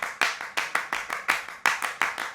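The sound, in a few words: several layered tracks of hand clapping, reverb off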